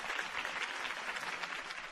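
A crowd claps and applauds in the Batman Telltale Series video game, a dense, steady wash of hand claps at moderate volume with no voices over it.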